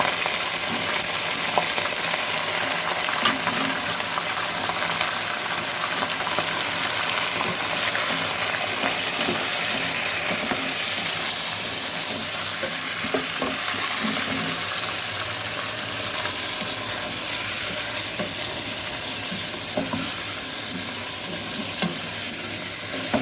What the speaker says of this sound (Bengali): আর এর মধ্যেই আমি মুরগির মাংসটা দেওয়ার কারণে একটু ভাজা ভাজা হবে